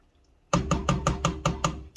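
A spoon stirs meatball spaghetti sauce in a pot, knocking against the side in a quick, even run of about eight close, sharp taps after a brief quiet start.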